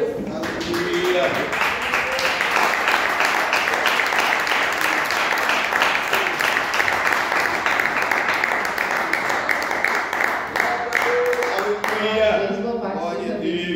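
Dense, steady applause from a church congregation fills the space, a continuous wash of many hands clapping that tapers off near the end as voices return.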